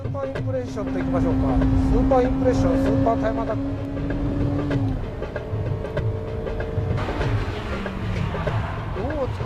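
A Honda Civic Type R engine revs high at Suzuka circuit, a steady loud engine tone held for several seconds before dropping off, with someone talking over it throughout.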